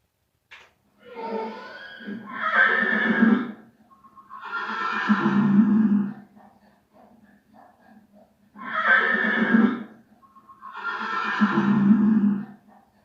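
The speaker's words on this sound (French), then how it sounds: "Le cheval qui hennit." A horse whinnies several times, each neigh a drawn-out, wavering call with short quiet gaps between them.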